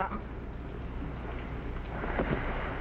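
A rain and thunder effect in an old TV sitcom: a dense, steady wash of rain with a low rumble that swells slightly toward the end, continuous and fairly loud, with no voices over it.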